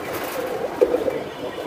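New Hotel Silver pigeons coo softly in a few short, low murmuring calls over a steady background hum, with one slightly louder coo near the middle.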